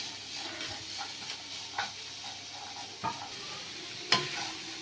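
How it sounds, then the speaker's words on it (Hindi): Vegetables and macaroni being stirred in a frying pan for chicken and vegetable macaroni pasta: a steady soft sizzle with scattered scrapes and clicks of the spatula, one sharper clack near the end, no talking. "अब हम इसे मिक्स करेंगे तो कुक होने तक। इस तरह से हिलाएंगे इसे।"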